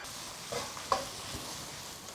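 Cured pork is stir-fried in a wok with rapeseed oil, ginger, scallion, garlic, chili and Sichuan pepper, giving a soft, steady sizzle with a few light scraping stirs, close and fairly quiet with no talking.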